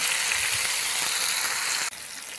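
Finely chopped tomatoes fry in a pan over browned onions, giving a steady close sizzle and crackle that cuts off abruptly near the end.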